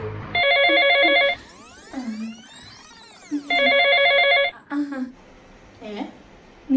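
A mobile phone rings with a repeating electronic ringtone in two loud bursts, separated by sweeping tones, with people talking between the rings.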